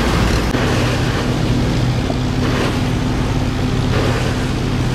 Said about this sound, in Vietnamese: chạy máy K38 nha quý vị